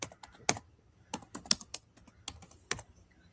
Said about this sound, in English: I have a smaller keyboard, so you can't hear me pound it